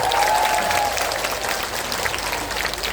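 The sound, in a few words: applause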